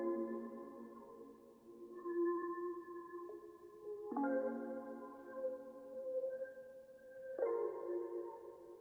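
Mellow synth pad drenched in a light vintage reverb, sustaining soft layered chords that shift a few times over several seconds with a gentle wobble in level, playing alone and fairly quiet.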